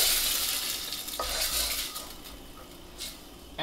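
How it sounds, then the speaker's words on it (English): Garlic sautés in a pan with a broad, hissing sizzle that swells and fades, broken by occasional scrapes and light clinks of a utensil against the metal, close up and without speech. "in this pan, saute the garlic"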